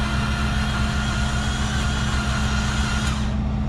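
A Mazda RX8 rotary engine cranks over, a steady low droning churn held at even loudness up close, cutting off sharply near the end.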